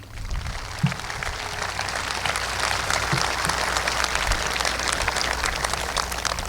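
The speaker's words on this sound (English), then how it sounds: "Let's give everybody a round of applause" A round of applause from the crowd at a 2022 high school graduation ceremony, broad sustained clapping filling a large space at an even level, with a few louder claps standing out near the start.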